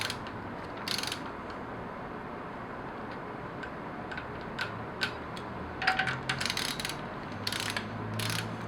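A torque wrench ratchets while tightening bolts on the VANOS unit of a BMW M54 engine, giving faint short bursts of rapid clicking at irregular intervals over a quiet hiss.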